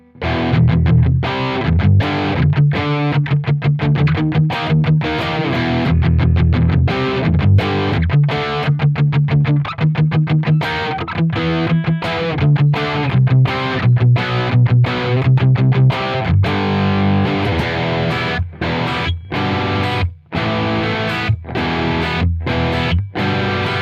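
An electric guitar runs through a Neural DSP amp simulator with heavy reverb, playing a loud, distorted, continuous riff with sustained chords and rhythmic picking throughout.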